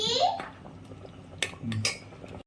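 A pot of Bengali-style mutton curry (mutton kosha) is stirred, giving a few metallic clinks and scrapes of a spoon against the pot, close by and moderately quiet, with faint kitchen background.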